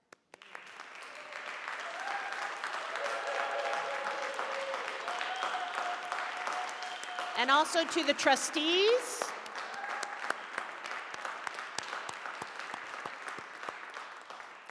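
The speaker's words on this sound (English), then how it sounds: "let us give a round of applause" A church congregation at its meeting applauds with sustained clapping that fills the room, steady and moderately loud, while a speaker talks over it briefly.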